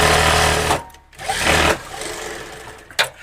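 A sewing machine stitches a coat collar in two close bursts of steady whirring, with a short pause between them and a brief mechanical clack near the end.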